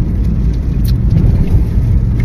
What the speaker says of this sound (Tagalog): ulit na may kusog ng ulan